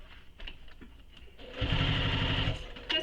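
A sewing machine stitches a Brewster belt bag near the clips and around curved edges, starting after a quiet stretch and running in a loud, fast, steady burst for about a second before stopping.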